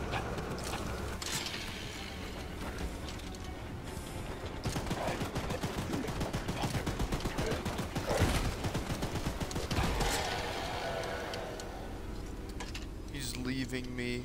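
Rapid gunfire in the video game Choo Choo Charles, a fast continuous rattle of shots over loud game noise, with talking mixed in.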